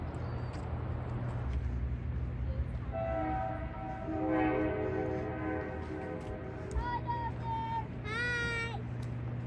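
A train passes near the Royal Gorge Bridge in Cañon City, Colorado, its horn sounding in long harmonic blasts over a steady low rumble, with a higher whistle-like tone near the end and some background voices.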